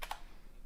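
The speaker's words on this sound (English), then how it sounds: "So I'll just hit enter there." Two quick clicks of keys on a computer keyboard sound as the enter key is struck, soft and close, followed by quiet.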